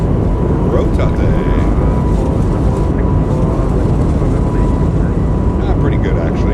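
An Airbus A220 accelerates down the runway and lifts off in a flight simulator game on an Air Baltic Riga to Dubai run, a loud, constant jet roar throughout with someone talking over it.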